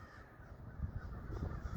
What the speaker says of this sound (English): The crows are coming in.